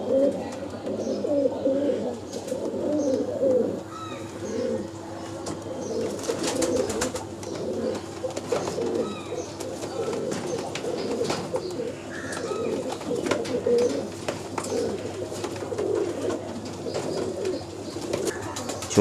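Many pigeons cooing at a busy pigeon market in Uluberia, soft overlapping throaty coos repeating steadily across a continuous murmur of background activity.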